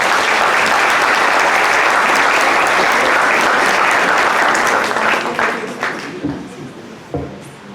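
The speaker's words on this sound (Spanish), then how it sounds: "Vamos a darle un fuerte aplauso y una bienvenida" Audience at a nursing leadership talk in a hospital gives a loud, dense round of applause welcoming a speaker, sustained for several seconds before thinning into scattered claps and fading out.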